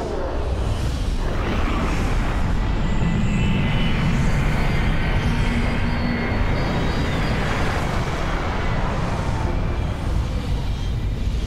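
A spacecraft in Star Wars Battlefront II roars in to land, a loud sustained engine rumble and whooshing drone that holds steady throughout, with no voices.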